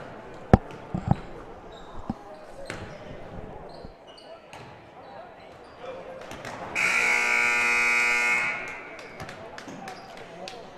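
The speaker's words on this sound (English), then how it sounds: "we got about 10 seconds till the buzzer sounds" At a girls high school basketball game between the Newton Falls Tigers and Champion Flashes, a loud, flat electronic buzzer blares for about two seconds after ball bounces and sneaker squeaks echo through the gym amid crowd voices.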